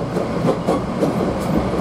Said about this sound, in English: I work in a high-powered train and we're moving